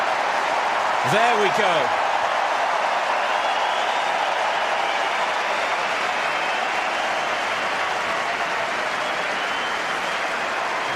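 A large crowd at the Nitto ATP Finals 2019 tennis match applauds and cheers in a steady, dense roar of clapping that lasts the whole time, with a brief whistle and a short spoken phrase near the start.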